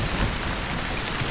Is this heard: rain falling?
yes